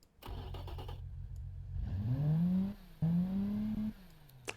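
Car engine from the Automation and BeamNG games, idling low and then revving hard twice in rising, close-sounding pulls before dropping back, with no talking.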